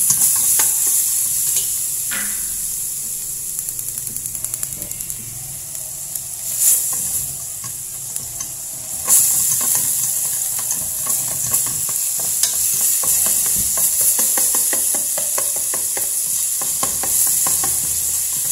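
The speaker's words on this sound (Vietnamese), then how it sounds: "Tôm thịt là mình đảo lên nhé, để cho cái phần tôm thịt này nó" Shrimp and pork are stir-fried in a hot pan, with a loud, steady sizzle and repeated scraping stirs of a utensil against the pan, close up and without talk.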